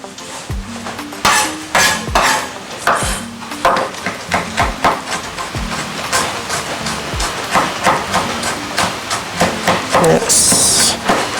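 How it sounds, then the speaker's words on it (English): Garlic is chopped with a knife on a board, a quick run of sharp knocks in uneven rhythm, close and fairly loud, with a voice talking over part of it. "Just keep chopping."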